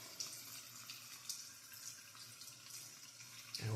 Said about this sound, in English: I'm going to go ahead and get some water applied to this mustache